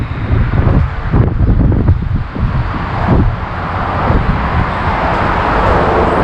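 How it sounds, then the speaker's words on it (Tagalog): Strong wind in Kuwait roars and buffets the microphone continuously, loud and rumbling with gusty surges, no voices. "medyo malakas yung hangin."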